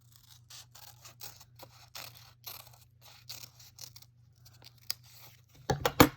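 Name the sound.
cutting a shape out of paper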